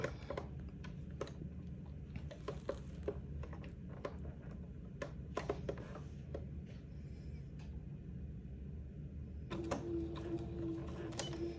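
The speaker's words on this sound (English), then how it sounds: "I'm going to sew those ends together with a straight stitch." A sewing machine runs a straight stitch to join the ends of a lengthened dress, giving a steady, fairly quiet mechanical whir with small ticks and clicks, briefly louder near the end as it backstitches.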